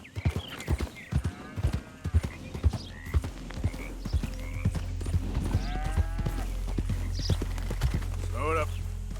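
A horse in Red Dead Redemption 2 sets off at a gallop, its rhythmic hoofbeats quickening into a continuous drumming, with a snort or whinny and a brief rider's voice.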